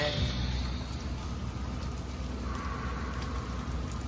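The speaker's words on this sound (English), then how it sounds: "It's raining." Steady rain falling outdoors, a constant broadband hiss of drops that holds even and moderately loud throughout, with no voices.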